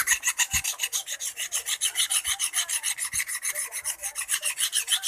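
Steady, rhythmic rasping of a saw file scraping back and forth on metal, about eight strokes per second, close and continuous, during repair of a Toshiba 19HV15E LED TV.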